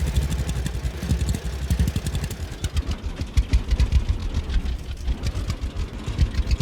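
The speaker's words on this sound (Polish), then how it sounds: "Patrzcie, jak ściąga ten ciągnik." Tractor engine pulling a plough across a field in the farming game Farmer's Dynasty, a steady chugging low rumble with rhythmic pulses throughout, close and continuous with no talk.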